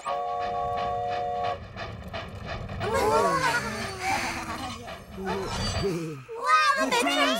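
A toy-like cartoon train from Pororo approaches with a chugging rhythm and a tooting whistle, followed by excited children's voices talking over it.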